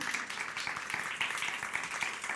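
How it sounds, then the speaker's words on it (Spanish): A church congregation claps together in a steady, dense patter of applause, moderately distant and fairly quiet, with no clear speech over it. "¿Puedes darle un aplauso a ver si hay convicción?"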